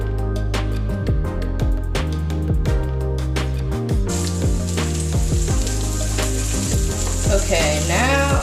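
Salmon and asparagus frying in a pan, a loud continuous sizzle with crackling spits and pops, joined by regular clicking taps in the first half.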